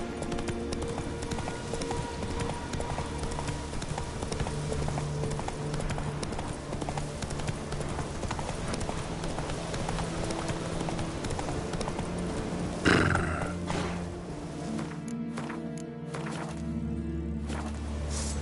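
In a video game, a horse gallops with steady, rhythmic clip-clop hoofbeats. A sharp thump comes late in the clip, followed by lighter, more scattered hoof sounds.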